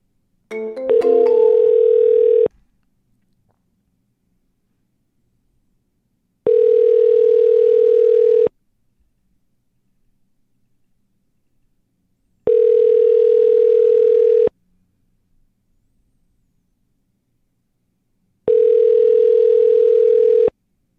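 Outgoing telephone call ringing back on a cold sales call, four long steady electronic ring tones spaced evenly with silent gaps between, clean and close with no voices.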